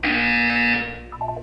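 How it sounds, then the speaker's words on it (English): Loud, harsh electronic buzzer from the Portal 2 video game, a steady tone held for nearly a second, then fading as short higher beeps follow. "You will hear a buzzer."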